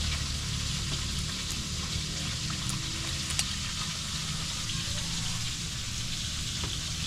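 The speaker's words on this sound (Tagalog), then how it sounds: "Habang nagpiprito tayo dun." Dalag fish fries in a pan with a continuous, even sizzle and hiss that stays steady and close throughout, with no talking over it.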